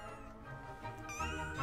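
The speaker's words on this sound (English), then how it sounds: "those pussycats speak and purr and things like that" Cats meow in a soft, high-pitched way from magical collector's plates decorated with cat pictures in Harry Potter. Several overlapping mews and purring tones rise over a gentle musical background, faint and close.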